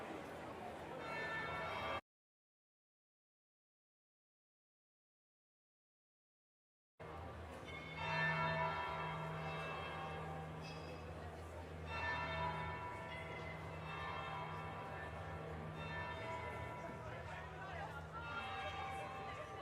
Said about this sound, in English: That will be the second bell.